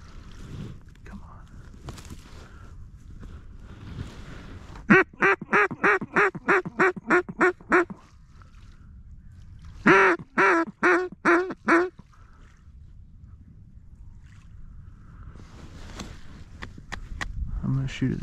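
Mallard ducks quacking at a duck-hunting spread on a clear, windy day: two loud, evenly spaced runs of about ten quacks each, with quieter wind noise between.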